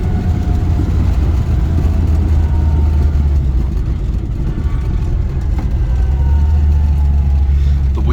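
A Morris 1100S engine hums steadily and close as the small car rolls into an outback roadhouse, a low continuous drone with a slight rise and fall near the end.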